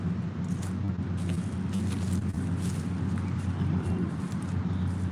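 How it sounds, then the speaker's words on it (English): An indoor pool's filtering system gives off a steady, loud mechanical hum and churn that stays constant throughout, with no talking over it. "The big noise you hear right now is I'm by an indoor pool, so that must be the filtering system that we're hearing."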